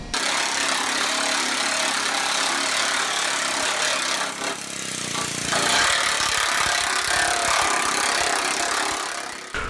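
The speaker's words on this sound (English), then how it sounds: "I'm just planishing out the major wrinkles" A planishing hammer smooths out wrinkles in a WACO aircraft wheel pant panel, making a loud, continuous, rapid buzzing hammer rattle that carries through the whole stretch with no talking.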